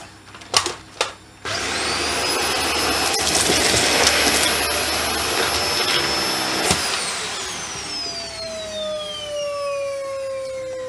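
A Dyson vacuum cleaner starts after a few clicks and runs with a loud, steady high-pitched whine for several seconds, then its motor winds down with a falling tone.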